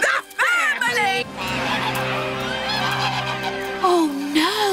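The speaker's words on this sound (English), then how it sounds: "a couple of honking old geese" Cartoon geese on a farm honk loudly and repeatedly in close, nasal rising calls, layered with music and other voices in the background.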